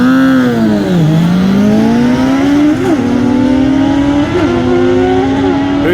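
A Kawasaki Z750 or Honda CBR sportbike launches at a streetbike drag-racing night, its engine screaming loud and close as the pitch climbs through several quick gear changes.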